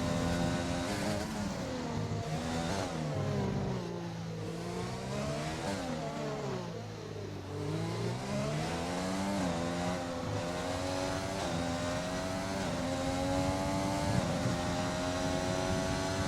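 Race car engine from an F1 video game on a flying lap at the French round, a continuous high-pitched whine rising and falling through gear changes and revs, loud and steady throughout with no talk.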